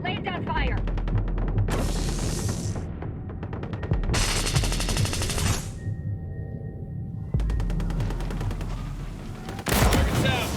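Bursts of automatic gunfire from the video game Ghost Recon Breakpoint, several loud sustained volleys separated by short pauses, with game sounds between them.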